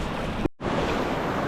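Ocean surf rolls in over an open-ocean sandbank on a remote fishing trip, a loud, continuous wash of waves with wind buffeting the microphone and one brief dropout partway through.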